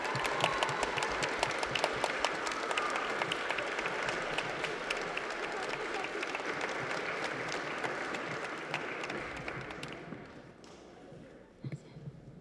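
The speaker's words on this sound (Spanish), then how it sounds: "vamos a recibir con un fuerte aplauso a Uriel Reyes y a Rix" An audience at a book presentation applauds steadily for about ten seconds to welcome two speakers to the stage, the clapping dense and continuous before thinning out and fading toward the end, with a few voices murmuring underneath.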